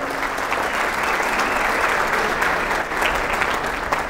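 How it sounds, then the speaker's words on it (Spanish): Applause from an audience of entrepreneurs and business people at a social media content marketing talk, a dense steady wash of many hands clapping, loud and sustained throughout with no speech. "un aplauso para ustedes"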